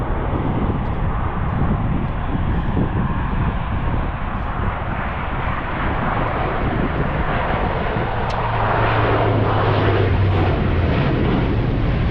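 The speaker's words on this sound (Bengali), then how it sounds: "বিমানটা মাত্র ল্যান্ড করলো এখানে প্রাইভেট জেট নামে" A small private jet's engine drones loudly and steadily at London City Airport, swelling as it passes close by and touches down at the runway's end, with wind noise throughout.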